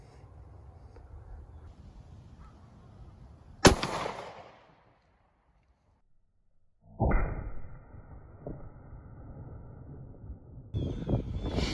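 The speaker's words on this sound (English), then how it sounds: "next up, 40 Smith & Wesson, fired out of the Glock 29, 180 grain" A single sharp report from a .40 S&W Glock 29 firing a 180 grain Federal HST round into ballistic gel, followed by quiet and then rustling handling noise and low background sound.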